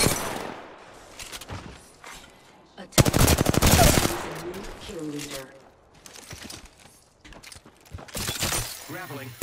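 Rapid automatic gunfire bursts and sharp impact shots from the battle royale video game Apex Legends, loud and close, with a heavy burst around the middle and another near the end, mixed with in-game voice callouts.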